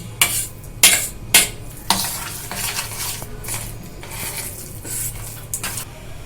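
Spoon stirring and mashing a paste of boiled chickpeas and spices in a bowl, close scraping and soft thuds, with a few sharp clinks of metal against the bowl early on.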